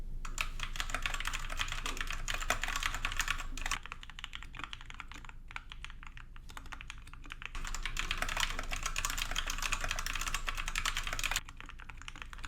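Steady, fast typing on a Royal Kludge 61 mechanical keyboard, close and crisp, with clacky keystrokes running continuously and a brief lighter stretch midway.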